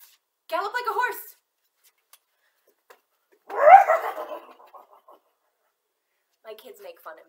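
A person makes short imitation horse noises, a whinny-like vocal burst between brief bits of voice and silence.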